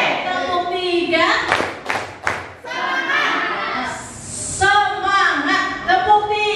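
Children clap a few sharp beats in a clap-count game at a school activity, the claps mixed with children's and an adult's voices calling out.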